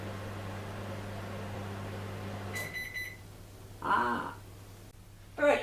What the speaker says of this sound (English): I'm just waiting for the microwave.